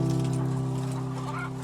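A caged hen in a battery cage clucks softly over a steady low mechanical hum of the poultry house, continuous and moderately quiet for under two seconds.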